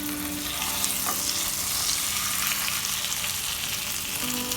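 Dense, steady sizzling of stuffed pomfret frying in hot oil in an open pan, crackling and spattering continuously at close range with no voices.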